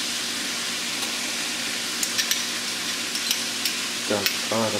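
Shepherd's pie filling sizzles steadily in a pan, with a few light scraping stirs near the end, close and moderately loud, with no voices.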